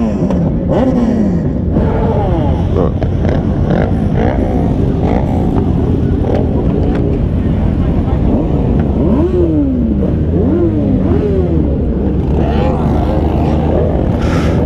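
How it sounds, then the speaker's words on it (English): Several motorcycles, including Kawasaki ZX6R sport bikes, rev hard and pull away one after another from a group rideout meetup, with rising and falling engine whines layered over a loud continuous rumble close by. "People, I'm gonna let some of these bikes leave out."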